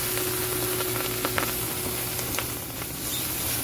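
Rice and mushrooms sizzle and fry steadily in a Breville RM-BEW600XL electric wok, a close, continuous crackling hiss with a few sharper pops and no talking.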